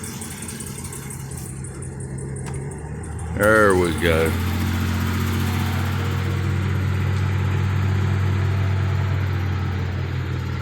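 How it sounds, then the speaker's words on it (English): A 1947 Plymouth engine idles close by in a steady, low, even throb that holds through the whole stretch, with a short burst of someone talking partway through. "listen how good this motor sounds"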